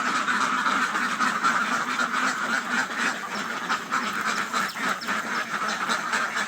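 Ducks on a duck farm keep up a dense, continuous chorus of quacking from many birds at once, steady and fairly close throughout with no talking.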